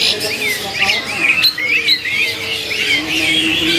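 An Asian pied starling calls at a bird market kiosk, repeating shrill, warbling squawks and chirps at close range over a busy background murmur.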